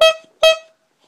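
Two short, bright car horn honks, the second following quickly after the first, loud and close, then silence.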